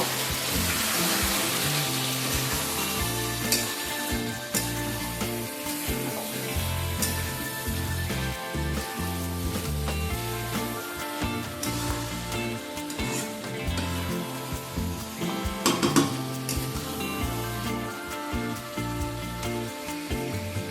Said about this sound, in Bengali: আদাটা দেবার পর আবারও কিছুক্ষণ মাংসটাকে কষিয়ে নেব।